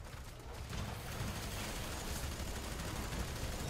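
Rapid automatic gunfire from the shooter game FEAR 3 makes a dense, continuous rattle of shots with mechanical clatter. It stays loud and sustained throughout, and nobody speaks over it.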